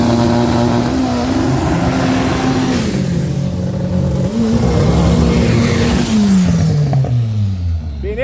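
Chevette and Volkswagen Beetle engines revving hard during a drag race, loud and close, with rising and falling engine pitch and a shift partway through, crowd and track noise behind.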